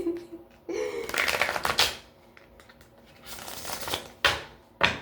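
Tarot cards are shuffled close up, with riffling bursts and sharp flicks and slaps of the deck, in short repeated bouts with quiet pauses between.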